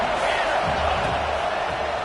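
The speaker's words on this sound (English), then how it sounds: "The crowd is loud" Loud crowd at a football game, a dense, continuous roar of many voices cheering, close and steady throughout with no break.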